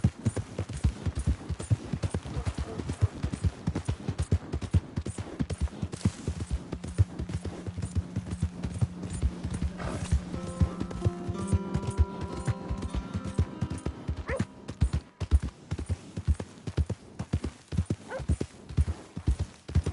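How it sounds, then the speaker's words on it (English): Rapid horse hoofbeats clatter steadily throughout in Red Dead Redemption 2, loud and close, with a horse whinnying briefly partway through. "My horse!"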